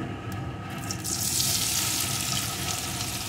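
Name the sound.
soybean chunks frying in hot oil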